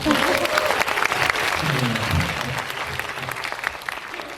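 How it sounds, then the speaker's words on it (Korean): Audience applause at a Korean film live talk event for the movie 'Ansi Sung', a sustained round of clapping from a crowd, steady and dense throughout with a voice speaking over it. "여러분들이 박수 한번 보내주세요"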